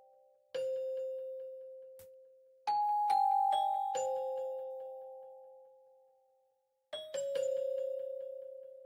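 Celesta-like bell tones from a software synth preset, struck in clusters of a few chiming notes that ring out and decay slowly, with quiet gaps between phrases.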